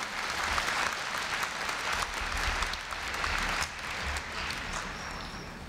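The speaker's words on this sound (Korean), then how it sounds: "네, 다시 한번 큰 박수 부탁드립니다." A large audience at a 2015 Korea University freshman entrance ceremony claps continuously, a dense, even wash of applause lasting the whole stretch without pause.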